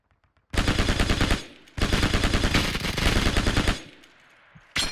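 Machine gun fire in the World War II shooter Hell Let Loose: two long, loud, close rapid-fire bursts separated by a brief pause, then a third burst starting just before the end.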